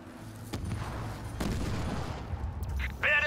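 Gunfire on a unit in the Halo Wars 2 strategy game, a dense, rolling spray of shots with a couple of sharper cracks and game noise over it, moderately loud.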